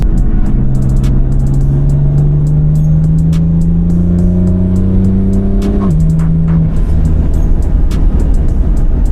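A BMW M4 with an S55 engine on a stage 2 tune accelerates hard, its loud, close engine note climbing steadily through a gear, then dropping sharply at a shift, with sharp pops and crackles throughout.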